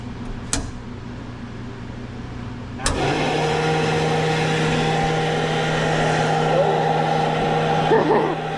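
A car engine catches and settles into a steady mid-pitched idle right after the ignition is switched on, following a quiet stretch broken by a couple of sharp clicks; the running engine stays close and even to the end.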